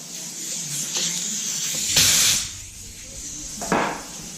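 Compressed air blowing out a screw hole in a table top with a steel insert, two short loud hissing bursts with a fainter puff between them, close up.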